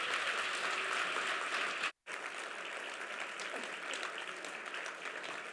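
Audience applause at an awards ceremony, a dense, steady wash of clapping that breaks off for an instant and then carries on just as strongly.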